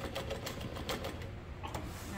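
A sewing machine stitches across tote bag webbing in a close, rapid mechanical chatter lasting about two seconds, with a voice talking over it.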